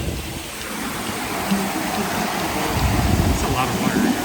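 Mist spraying from the Universal Studios globe fountain on a hot day, a steady broadband hiss of fine water spray close by, with soft crowd ambience underneath and no clear speech.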